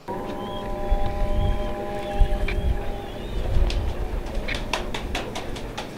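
Pigeons cooing, low soft throaty coos repeating through a steady ambient hum, with sharper clicks and taps late on and no speech.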